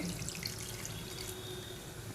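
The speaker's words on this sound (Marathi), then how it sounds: "मिक्सरच्या भांड्यामध्ये थोडं पाणी घालून मी ह्यामध्ये थोडंसं पाणी अजून घालून घेते" Water pours steadily into a mixer jar as part of a Malvani chicken recipe. It is a soft, continuous close trickle with no talk.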